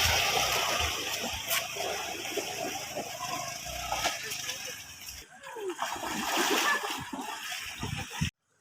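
Water splashes and trickles continuously as someone wades through a stream on the way to the Munjuluru waterfalls, a steady near wash of broad noise with brief pauses, and voices talk faintly beneath it.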